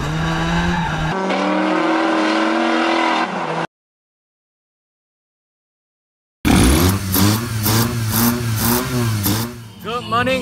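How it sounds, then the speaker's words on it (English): Drift car engine at Batu Kawan Stadium, rising and falling in revs with sustained tonal whine, then after a silent gap a burst of aggressive rhythmic revving and bouncing limiter pulses, loud and close. "setting out for my first ever drift run."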